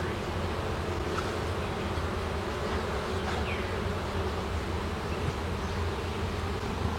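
Honeybees hum steadily around a hive colony, a dense continuous close buzz with no talk.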